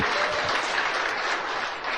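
A church congregation claps for Jesus during an Ilocano sermon, a brief, dense burst of applause that stays steady and fairly loud across two seconds with no talking over it.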